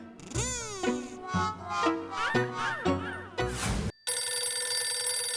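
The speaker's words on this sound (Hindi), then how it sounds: "मेहता साहब, दया का फोन।" A telephone rings with repeated warbling, chirping tones in quick bursts, followed by a steadier buzzing ring, clear and fairly close.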